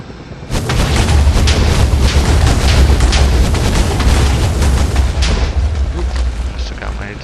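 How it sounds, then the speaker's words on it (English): A helicopter in a Minecraft mod fires a salvo of 68mm Sneb rockets, producing a dense, loud, continuous roar of rapid launch booms that sustains for several seconds before tapering off. "And the Sneb rockets, which are 68mm rockets, and there's 22 of them"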